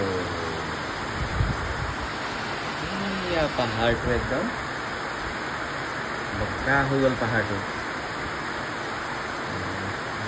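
Steady rain falls over hills seen from a balcony, a continuous even hiss throughout, with someone talking over it in short bursts.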